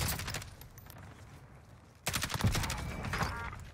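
Rapid bursts of gunfire from Call of Duty Warzone on Rebirth Island, fairly faint at first and then louder and denser with sustained fully automatic fire.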